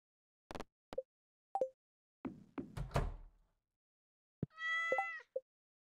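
A pet cat lets out several short, close meows, with a cluster of soft bumps and knocks in between, and ends on a longer, louder drawn-out meow followed by one more brief call.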